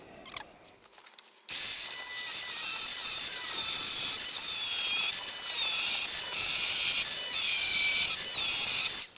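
Harsh, high-pitched cutting of slots into metal rivets starts after a brief quiet moment and runs steadily, close and loud, with slight rises and dips.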